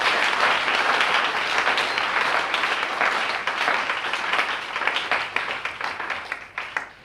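A church congregation applauding during a worship service, with dense, sustained clapping from many hands that carries on steadily and thins slightly toward the end.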